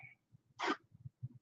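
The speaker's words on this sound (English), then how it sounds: "Sneezing a lot." A single sneeze from a person with a head cold, a sharp burst standing clear above soft breathing and sniffly snorts before and after, close to the microphone and otherwise quiet.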